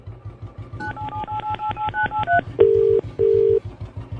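A rapid run of telephone keypad dialing beeps, followed by two longer steady tones, over a low rhythmic engine-like rumble.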